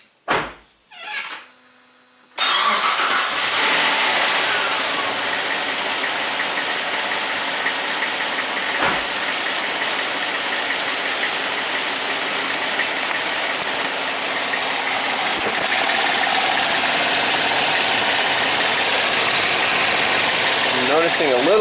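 A car engine cranks in a few short bursts, catches after a repair, and settles into a steady close idle with slight variations and a faint tick, running alone without talk.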